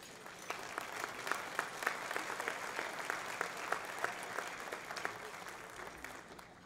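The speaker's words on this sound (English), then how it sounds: "Round of applause." An audience applauds at a State of the City 2016 event for Carrollton–Farmers Branch officials. The sustained, fairly quiet crowd clapping has crisp individual claps popping out at a regular pace, with no speech over it.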